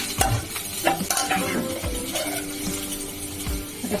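Chopped tomatoes hit a pan of frying potatoes and spices, setting off loud, steady sizzling with scraping stirs and occasional clinks of a utensil against the pan, close up and without talk.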